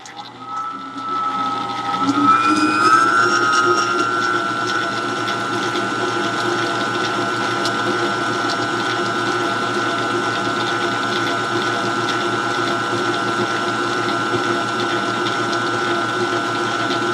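An electric mixer whips 35% cream toward butter, a steady mechanical whir that rises in pitch early on and then runs loud and continuous with no voices.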